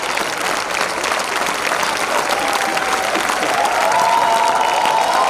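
A kavi sammelan audience at a comedy poetry gathering applauds in a dense, continuous roar of clapping and crowd noise, with a faint tonal whine rising through the last seconds.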